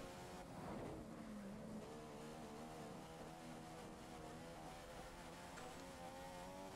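A Formula 1 race car engine in the video game F1 2015 whines at high revs during Spanish Grand Prix qualifying, a sustained tonal roar with shifting pitch, running continuously and alone.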